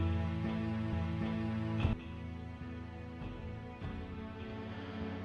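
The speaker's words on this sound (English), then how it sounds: "you might hear the fan on in the background" An electric fan runs steadily in the background during a sailboat deck core repair, giving a faint, constant whirring hum with a few soft knocks and clicks, and no one speaking.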